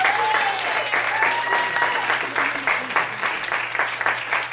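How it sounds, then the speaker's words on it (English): A school audience at a chapel and international day event claps in a steady, dense round of applause that carries on without a break, loud and close. "Give yourselves a round of applause"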